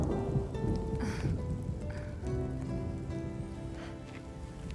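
Rain falling in the Midgard setting of the video game Final Fantasy VII Remake, a soft, steady patter of drops on surfaces mixed with faint game ambience and brief tonal sounds, fairly quiet throughout.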